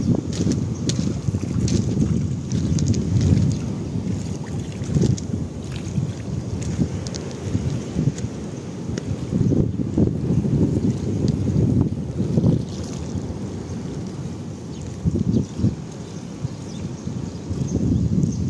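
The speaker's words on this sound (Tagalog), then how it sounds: "Oh my, malakas ang alon. Lakas naman ang alon." Strong sea waves surge and roll continuously at Villa Elisa, Botolan, under steady gusting wind buffeting the microphone, a loud, dense rumble with periodic swells and no voices.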